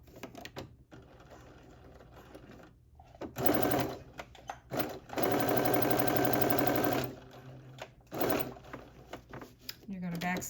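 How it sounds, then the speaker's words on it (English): A sewing machine stitches a sweatsuit pocket in several short runs and one longer steady burst, close and clear, with a voice speaking between the stitching. "we're going to stitch to the dot below that one"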